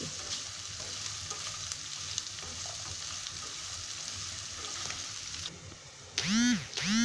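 Chopped onion fries over a high gas flame for a homemade Konkani veg pulao: a dense, continuous sizzle with faint stirring, easing off briefly before a short voice-like, tonal sound near the end.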